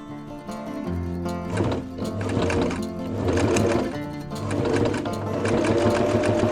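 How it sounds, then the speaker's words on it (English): A sewing machine stitches steadily up close, its rapid mechanical whirr swelling and easing in pulses as fabric is fed through. "I'm going to get this run through the sewing machine"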